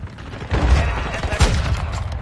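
Stun grenade going off in a first-person shooter game, a loud boom amid a dense fusillade of gunfire that keeps peaking through the short stretch, with low rumbling impacts.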